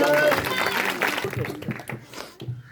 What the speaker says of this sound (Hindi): इस गवाही के लिए तालियों के साथ धन्यवाद